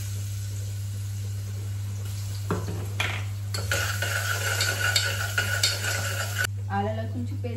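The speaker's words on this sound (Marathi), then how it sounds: "आता आपण ह्याच्यामध्ये घालून घेऊ आलं लसूणची पेस्ट।" Ginger-garlic paste frying with cardamom, cloves and black pepper in a pan, a steady sizzle over a constant hum, with a spoon scraping and stirring and metal clinks growing louder midway.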